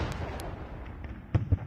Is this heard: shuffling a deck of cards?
no